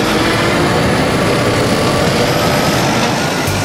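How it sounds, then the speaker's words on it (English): Cartoon aeroplane engine sound effect: a loud, continuous, dense droning roar held steadily throughout with no pauses and no voices. "Look, you're going on the aeroplane too."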